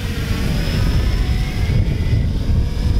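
A 3DR Solo quadcopter drone flying overhead, its propellers giving a steady, fairly loud whirring drone with a faint high whine, continuous without speech.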